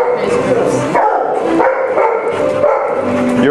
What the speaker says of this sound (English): And we got some annoying dogs.